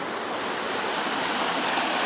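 The San Gabriel River running high in the mountains near Azusa, California: a steady, broad hiss of rushing water, close and continuous, with no voices over it.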